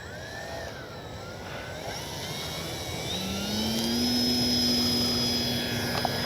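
A Dynam Beaver V2 electric RC model plane takes off from grass, its motor whine rising and holding steady at a moderate distance against outdoor background noise.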